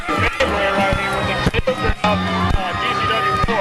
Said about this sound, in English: The crowd is happy, showing their approval, bouncing all over the place.